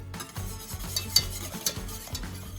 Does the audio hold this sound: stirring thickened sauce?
yes